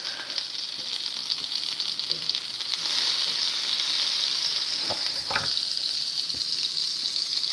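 Chicken and broccoli sizzle in a thin coating of oil in a pan, a continuous close crackling hiss that grows louder partway through, with a few brief clinks of stirring.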